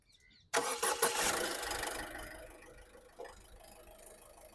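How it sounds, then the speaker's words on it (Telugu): A 2017 Ford EcoSport Titanium diesel engine cranks and fires on a single start after a short silence, a loud burst that settles into a steady, smooth idle close by. "సింగిల్ సెల్ఫ్ బండి స్టార్ట్ ఉంది సార్."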